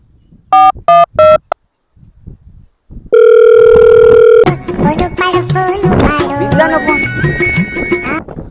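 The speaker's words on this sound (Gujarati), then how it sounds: "હાલ એને ફોન કરું" Phone call tones: a few short dial beeps, a pause, then a steady loud ringback tone for over a second, followed by music or a ringtone playing to the end.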